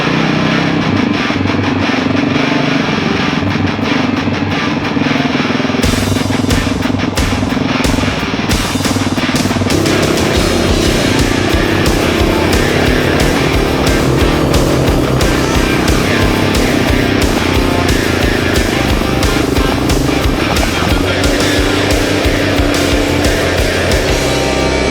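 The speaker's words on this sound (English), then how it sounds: "we're on dirt bikes, and let's just hope I don't get hurt on this thing" A dirt bike engine drones loud and close throughout while being ridden, with wind buffeting and clattering that grow rougher as the ride gets going.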